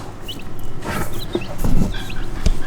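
A garage cage crowded with Red Mottled Ancona bantam chicks gives off close, continuous high peeping and chirping, with scattered scratching and bumps underneath.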